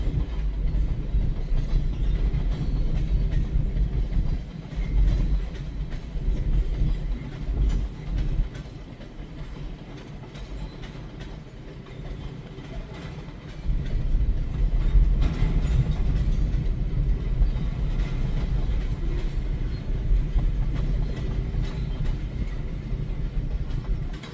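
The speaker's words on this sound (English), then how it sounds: "A lot of tankers here going north." Freight train tanker cars roll steadily north past on the rails, a continuous loud rumble with rhythmic clickety-clack from the wheels, close and unbroken.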